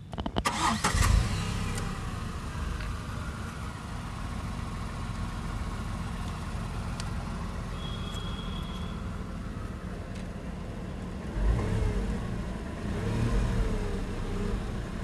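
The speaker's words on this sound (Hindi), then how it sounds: "आज मैं थोड़ा सा रिव करके आपको दिखाती हूँ" A Tata Tigor XZ car engine runs at a steady, loud idle, then rises in a couple of short rev swells near the end, with no talking.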